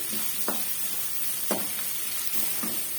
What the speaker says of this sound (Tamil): வெங்காயம் பச்சை மிளகாலாம் ஓரளவுக்கு வதங்கி வந்துடுச்சு